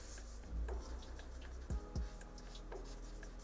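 Pencil scratching furry strokes across paper while sketching a tiger cub, a steady close rasp with a few heavier taps and drags standing out.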